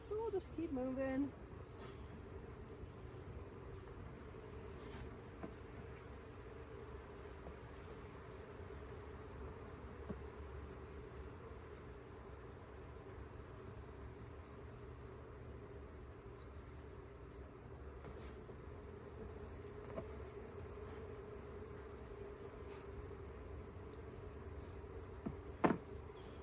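Honeybees during a September beehive inspection, a soft, continuous buzzing hum at low level, with a few faint clicks and knocks of handling over it.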